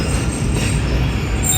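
The Rehman Baba Express pulls into Alipur Chatha station in a loud continuous rumble of rolling wheels and carriages with a faint high squeal, steady and close, with no voices.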